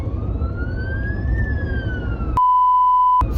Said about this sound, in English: Phew, it's just an ambulance.